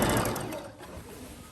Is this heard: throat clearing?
no